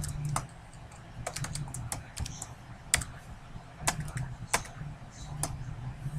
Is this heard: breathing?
no